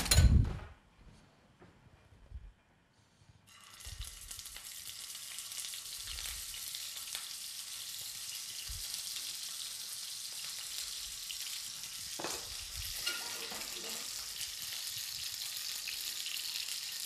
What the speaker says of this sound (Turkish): Ben hemen şöyle yine bir maşa yardımıyla sevgili izleyiciler köftelerimi kızgın yağa atayım.